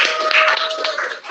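A classroom of students breaks into a brief burst of dense, continuous applause, loud and close.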